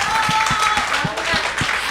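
A Spanish-speaking audience at a book event on a communist leader claps for a woman, loud and close, with some lower thumps and a sustained tone running under the applause.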